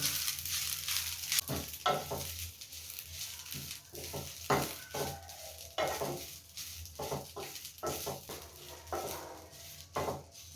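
Drumstick leaves stirred and frying in a pan on low heat, with repeated scraping stir strokes over a soft steady sizzle, close and moderately loud, no talking.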